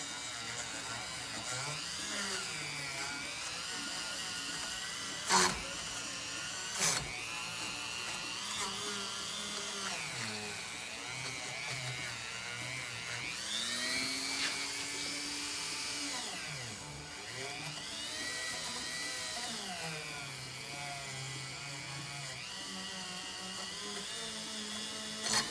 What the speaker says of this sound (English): I just put my wire wheel on there, and I'm gonna go